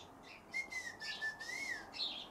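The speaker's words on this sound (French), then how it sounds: "Comme écoute le gazouiller." A single bird chirps and trills in a thin, high, wavering whistle, fairly faint against a quiet background.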